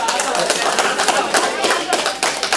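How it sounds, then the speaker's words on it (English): A group of schoolboys claps for the girls in a classroom, a brisk, fairly close patter of many hands over a couple of seconds, with some voices mixed in. "Boys, clap for them."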